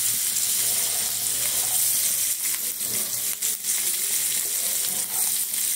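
Capsicum fries in butter in a pan with a close, steady crackling sizzle and occasional stirring scrapes, and no one speaks.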